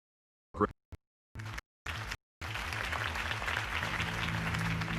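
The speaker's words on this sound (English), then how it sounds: "If only Mr. Wayne, my campaign's largest backer, could have heard that applause" In the video game Batman: The Telltale Series, a few short choppy bursts of sound give way to sustained applause from a crowd, steady and fairly loud until the end.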